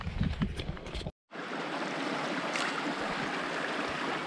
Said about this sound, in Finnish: Veden täyttä puro.